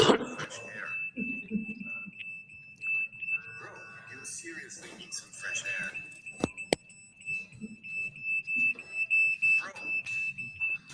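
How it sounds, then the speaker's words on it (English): Smoke detectors sounding during a city council meeting, a steady high-pitched alarm tone running throughout under crowd noise and people talking. "The fact that they set off the smoke detectors isn't enough to kick them out."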